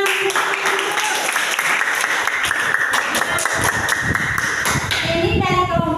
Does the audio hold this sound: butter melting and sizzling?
no